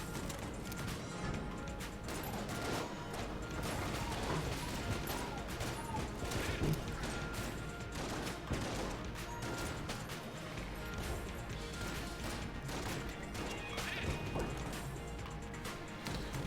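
A gun firing rapidly in Enter the Gungeon, a dense, continuous stream of sharp shots and impacts layered over game music, steady and busy for the whole stretch.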